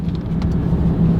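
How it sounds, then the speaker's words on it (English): Highway traffic on the Coquihalla in British Columbia, a loud, close roar of a vehicle passing with a steady low engine drone and tire hum over a brief moment. "so you can see there's traffic flying past."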